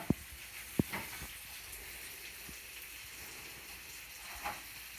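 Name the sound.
onions caramelizing in olive oil in a pan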